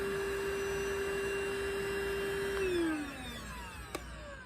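A Prettycare cordless lightweight vacuum cleaner runs with a steady, loud motor whine that drops in pitch near the end as it switches speed or powers down, followed by a short click.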